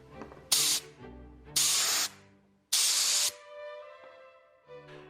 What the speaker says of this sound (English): We ran some compressed air through both parts of the carburetor feed line.